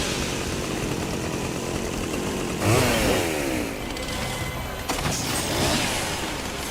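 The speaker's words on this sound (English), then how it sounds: "Yeah, I'll just take the chainsaw instead." A chainsaw revs loudly in a Simpsons video game, a steady buzzing drone that surges into a harsher roar partway through, with no talking.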